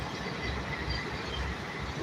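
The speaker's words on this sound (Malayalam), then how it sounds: "ട്രെയിൻ പോകുന്നു" A train rumbles past nearby, a continuous heavy rolling noise with faint metallic squeal, steady from start to finish.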